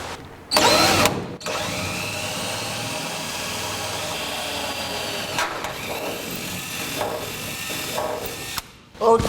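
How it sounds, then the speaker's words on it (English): A power drill with a 1/8 inch bit bores a pilot hole through a bolt on a 1949 Chevrolet frame, a steady high whine and grinding that runs for several seconds after a short start-up burst, close and loud, with no talk. "Now we get to drill it out. We'll start with an 1/8 inch drill."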